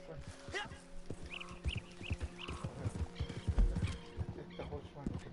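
Hoofbeats of a horse running in a PS4 video game, a steady clip-clop rhythm with brief whinnies, heard under game music and people talking.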